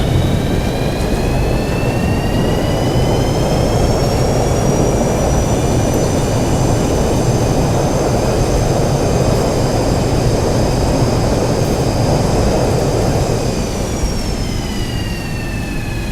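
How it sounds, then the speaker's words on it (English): Jet engines of a Boeing 737-200 in the X-Plane 11 flight simulator roar with thrust reversers engaged after landing, a loud, steady, continuous rumble with high whining tones that rise slightly and then fall away near the end. "Alright, thrust reverse is engaged."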